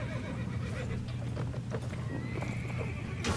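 Horses whinnying and hooves clip-clopping in a Mount & Blade medieval battle, loud and close, layered over a dense din of combat noise throughout.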